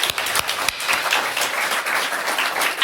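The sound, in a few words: audience applause at writing festival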